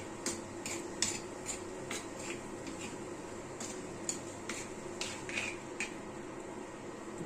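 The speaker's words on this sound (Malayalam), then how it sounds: "ഒന്നുകൂടെ ഇളക്കി കൊണ്ട് കൊടുക്കാം" Vegetable thoran being stirred in a pan, with a steady run of light spoon scrapes and clinks against the metal over a soft frying hiss, fairly close and without talk.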